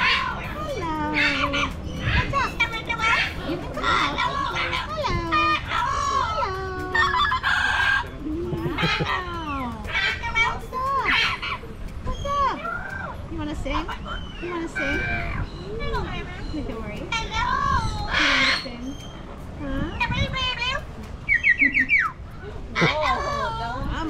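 Birds at an exotic bird sanctuary squawk, chatter and call repeatedly in loud, close bursts, mixed with frequent people talking nearby.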